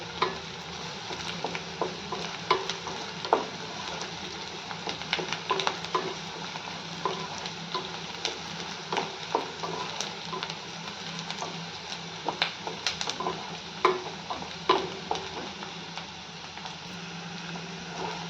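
Onion fries in a pan until pink, giving a continuous oily sizzle with frequent scraping stirs and light utensil taps, close and steady throughout with no voices.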